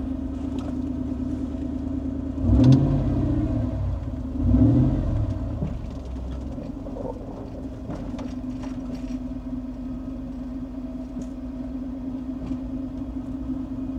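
A V8-swapped Toyota 4Runner rumbles along with a deep, steady engine drone, swelling twice in short revving surges early on before settling into an even cruise.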